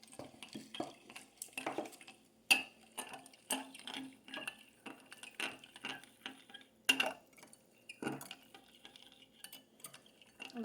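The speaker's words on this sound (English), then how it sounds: "And then I'm going to add about 1/3 of a cup of cocoa powder, maybe a little less. Yeah. And I'm going to whisk that together." A whisk stirs cocoa powder into chocolate cake batter in a bowl, steady close taps and light scraping with a soft rhythmic clink against the bowl, quiet and alone.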